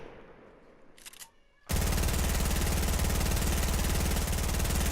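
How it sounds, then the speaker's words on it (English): In a Fortnite build battle, a short burst of rattling sounds cuts out, then a loud shot gives way to a sustained, dense, harsh roar that fills the rest of the moment, close and overpowering. "That was a sniper."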